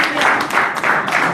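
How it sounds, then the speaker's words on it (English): An audience applauds at a talk on the impact of Brexit, a brief burst of dense, steady clapping in a room, fairly loud and close with no speech. "Give her a round of applause, please."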